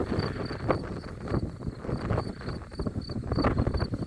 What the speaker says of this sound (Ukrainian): Сьогодні вітряний день.